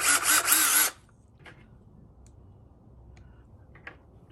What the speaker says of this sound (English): So we need to drill a hole to make it bigger.